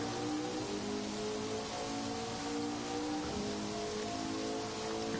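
Rain in a wet-weather racing video game time trial, a steady soft hiss of falling drops filling the background evenly and fairly faint, with no talking.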